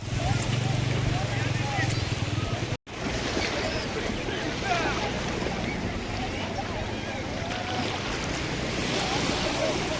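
A speed boat rides over sea waves, sending out a continuous loud roar of engine, rushing water and wind buffeting the microphone, broken only by one brief dropout near the start.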